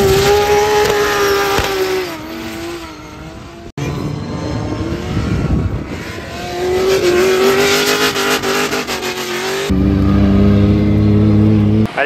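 Formula Drift cars running on a race track during a cruise and track day in Perry, Oklahoma, their engines roaring and revving loudly and continuously with shifting pitch, the sound near and dense throughout.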